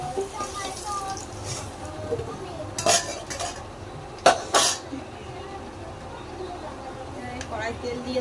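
Fried potatoes seasoned with turmeric and salt are scooped from a kadai into a bowl, metal utensils clinking and scraping in a few sharp bursts over a low kitchen hum, with soft speech nearby.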